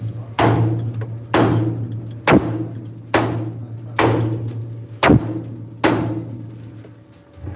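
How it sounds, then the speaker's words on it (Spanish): Hammer blows on a truck chassis during crack repair in a workshop, seven heavy metallic strikes at a steady pace of about one per second, loud and close over a constant low hum. "El martillo está aquí"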